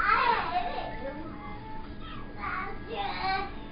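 Young children play and chatter in a home living room, their voices rising in short bursts at a moderate distance while cooking goes on nearby.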